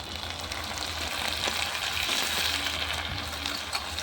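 Onion sizzles in hot oil in a pan over a clay stove as ginger-garlic paste goes in, a dense steady crackle with a few soft clinks and stirring scrapes, close and fairly loud with no talking.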